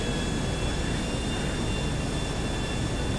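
Smoking airplane engines in the video game GTA V give a steady, loud jet roar with a continuous whine, constant in level and without talk.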